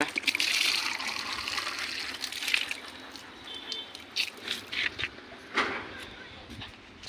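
Water splashes and trickles steadily into a pigeons' dish nearby, with a few louder gushes and soft knocks toward the end.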